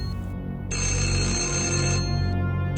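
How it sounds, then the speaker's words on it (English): A mobile phone rings at home on a Sunday morning, its electronic ringtone sounding loud and continuous over a low steady background, with no talking. "That moment, my phone rang."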